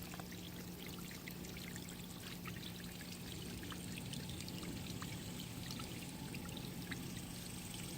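Water splashes and pours steadily down a small garden waterfall, a constant close rush with faint trickling detail and no voices.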